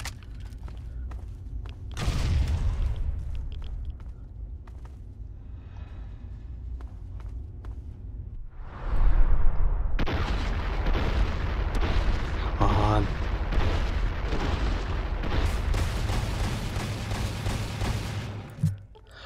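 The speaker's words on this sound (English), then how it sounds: "Have a grenade." A grenade explodes in Fallout 3 amid ongoing gunfire, with a heavy boom near the start and a louder blast around nine seconds followed by sustained rumbling and chaotic combat noise. Voices can be heard during the action.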